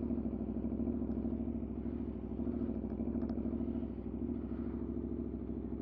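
A steady, throaty engine rumble holds close and loud throughout, a low idling exhaust drone with slight fluctuations and no voices.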